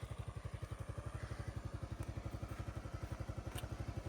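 A motorcycle that is hard to start runs at a steady idle, its engine thumping in a fast even pulse, with faint clatter over the top.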